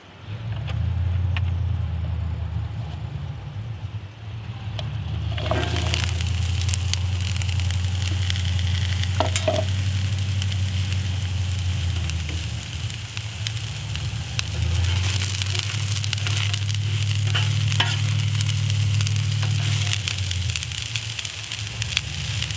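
Broccoli, onion, carrot, zucchini and mushroom frying in vegetable oil on a Blackstone griddle, a steady close hiss running throughout over a low droning hum.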